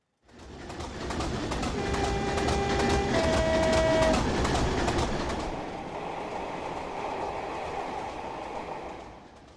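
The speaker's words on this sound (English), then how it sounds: "I'm not a fan of the default prime mover sounds" Default locomotive prime mover in Train Simulator for a BR Blue liveried diesel, a dense rumbling engine roar with a faint whine on top, rising and then settling steady, with no talk.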